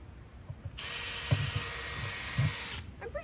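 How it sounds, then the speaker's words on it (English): A power drill bores one tiny hole in the bottom of a container, a single steady high whine lasting about two seconds, close and fairly loud, with faint knocks before and after. "You just take it here and drill one tiny little hole in the bottom."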